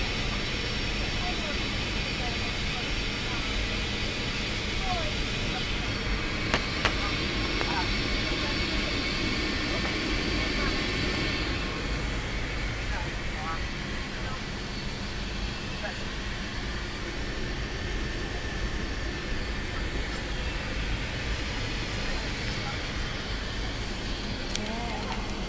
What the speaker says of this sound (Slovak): Myslím, že ideme na pristátie.